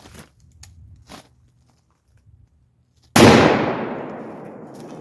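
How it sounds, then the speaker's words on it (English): A Taurus Raging Judge Magnum revolver in .454 Casull fires a single-action shot into a rim: one loud, sudden blast with a long decaying roar, after quiet handling clicks and rustles. "I'm going to shoot this single action into that rim"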